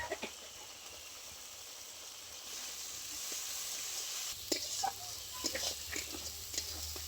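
Mustard and cumin paste sizzles in a pan with a soft, steady hiss, joined midway by light scraping and tapping from stirring.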